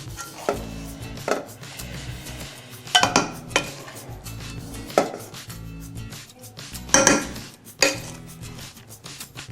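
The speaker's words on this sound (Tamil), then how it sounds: "ஓகே, நம்ம சர்விங் பவுலுக்கு மாற்றிடுவோம்." Hyderabadi prawn biryani is scooped from the cooking pot into a serving bowl, with sharp metal utensil clanks and scrapes against the pot and bowl, about a dozen irregular knocks close by, no talking.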